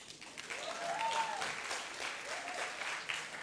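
Scattered audience applause at a May 2015 leadership forum, moderately loud and steady, with a faint voice briefly rising over the clapping.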